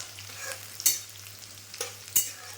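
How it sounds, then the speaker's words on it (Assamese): Onion frying in a wok with a soft sizzle, broken by two or three sharp scraping clatters of a spatula against the metal. No voices are heard. "তাতে কেৰাহীতে অকণমান পিঁয়াজ দি"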